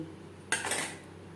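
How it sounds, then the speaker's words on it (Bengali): A utensil clinks and scrapes against a pot while skimming foam off boiling masoor dal, one short close clatter after a quiet stretch with faint background hum. "ডাল বেশ ভালো করে ফুটতে শুরু করে দিয়েছে ডালের ফেনা পরিষ্কার করে নেব"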